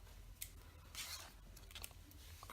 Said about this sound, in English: I'm going to leave a little bit of this thread here before I cut it